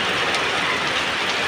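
Heavy rain pours down in a steady, dense hiss that fills the whole stretch without pause, loud and close, with no voices.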